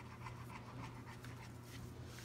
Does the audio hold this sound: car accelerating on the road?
no